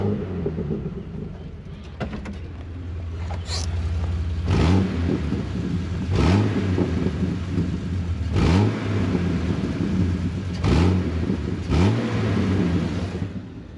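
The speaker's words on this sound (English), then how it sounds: "She's even got a nice burble to her now that the exhaust is all hot." A close idling Jeep 4.0L engine with a deep, hot exhaust burble, briefly revved five times at fairly regular intervals, each rev swelling and then dropping back to idle.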